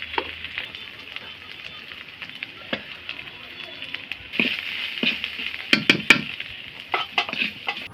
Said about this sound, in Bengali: এবার মশলাগুলো হালকা করে ভেজে নিবে।